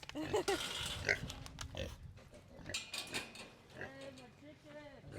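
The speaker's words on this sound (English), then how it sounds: "The pigs, they're cute, huh?" Pigs oinking and grunting at a camp animal pen, several short squeals and grunts close by, with people talking over and between them.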